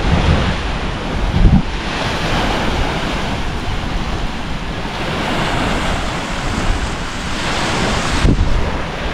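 Waves wash steadily onto a white sand beach at low tide, a continuous broad roar of surf mixed with wind noise on the microphone, fairly loud with no one speaking.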